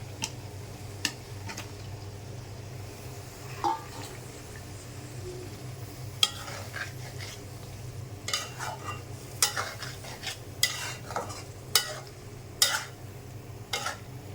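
Goat meat frying in a pot: a low steady sizzle runs underneath while sharp scraping clicks from stirring come and go, growing busier toward the end.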